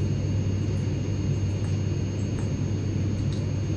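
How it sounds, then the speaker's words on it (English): Airplane engine in a Minecraft map, a steady loud jet-like rumble and drone holding constant from start to finish with no pauses. "I still hear the plane."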